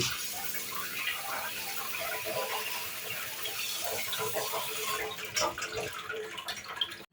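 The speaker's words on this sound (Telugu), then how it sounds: "1 కప్పు అటుకులు తీసుకొని వీటిని ఒకసారి శుభ్రంగా వాష్ చేసుకోవాలి" A cup of flattened rice (poha) is rinsed in water, close splashing and sloshing running throughout with a few sharper knocks near the end.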